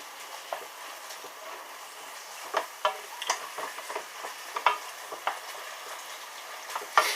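Chorizo sizzles and crackles in a hot pan, a soft constant fizz broken by irregular louder pops and spits, close by with no voices.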